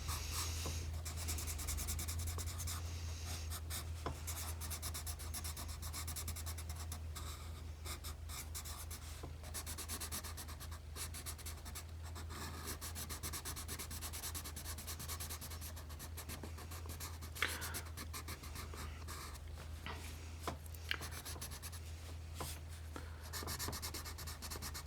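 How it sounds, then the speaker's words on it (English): A Derwent blending pencil rubs colored pencil into paper, making a close, steady scratchy friction with quick back-and-forth strokes under a low constant hum. "I do take my Derwent blending pencil, blend here a little bit."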